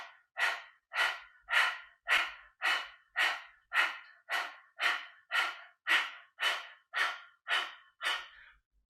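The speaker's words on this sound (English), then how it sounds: "Just long, deep breathing" Long, deep yogic breaths in a Kundalini breathing exercise, about fourteen even, rhythmic airy strokes close up, each swelling and fading with a short gap, steady and unbroken with no talking.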